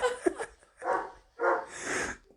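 A dog barks several times in an uneven rhythm, some barks drawn out almost into a howl, with breathy sounds between them.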